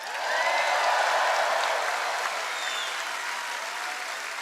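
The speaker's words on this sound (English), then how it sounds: "let's give them a roaring sound of applause" Sustained crowd applause at an outdoor political rally in Lewis Center, Ohio, a steady dense wash of clapping and cheering that holds loud throughout with no speech over it.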